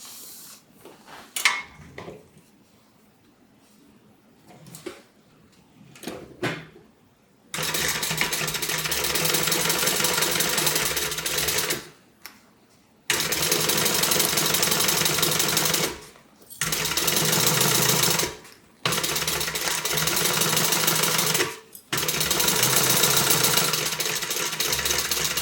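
A sewing machine stitches a multi-compartment tote bag in long, loud runs of steady whirring, broken by short pauses and a few clicks of handling before it starts.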